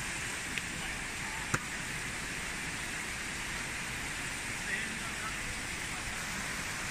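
Steady broadband water rush from a mountain stream swollen by recent rain, continuous and fairly close, with a couple of faint clicks and a hint of distant voices beneath.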